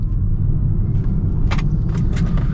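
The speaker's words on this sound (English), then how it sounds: "now I'll get an acceleration" A 2024 Hyundai Ioniq 6 electric car accelerates hard in sport mode, giving a steady, loud, low rumble of road and wind noise with a few brief higher whooshes and no talking.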